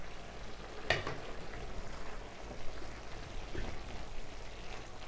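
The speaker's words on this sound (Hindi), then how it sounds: "ये देखिए हमारा कीमा फ्राई हो रहा है।" Beef keema sizzles and fries in a covered pan, a steady close crackle with a few sharper pops and clinks along the way.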